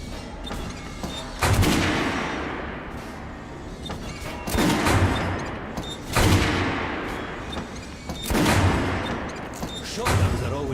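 A Kalash assault rifle fires in Metro Last Light in several loud bursts spaced a few seconds apart, each with a booming echo. A steady game ambience fills the gaps between the bursts.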